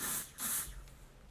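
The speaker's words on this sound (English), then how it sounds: "So I just spray the Kabuki brush" Younique spray foundation is sprayed onto a kabuki brush in two quick close hissing bursts, followed by a faint soft rustle.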